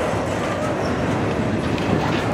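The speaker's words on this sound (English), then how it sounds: "here comes the end of the train" A CSX container freight train rolls past nearby, its cars rumbling and clattering steadily with occasional faint wheel squeal, loud and unbroken throughout.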